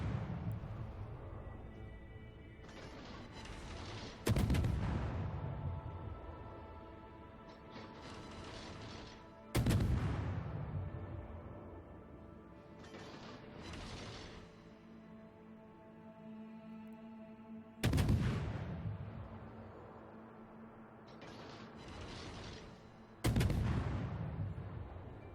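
Heavy ship guns boom in a naval warfare game, four big salvos spaced several seconds apart, each a sharp loud blast trailing into rumbling decay over a steady low engine-like drone.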